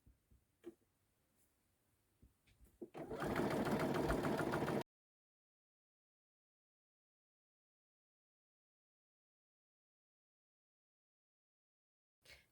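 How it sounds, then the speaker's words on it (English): A sewing machine runs for about two seconds as black cuffs are stitched onto a patterned pillowcase, a steady close mechanical whir after a few light clicks, then silence. "I'm going to be sewing both my black cuffs onto my patterned large areas."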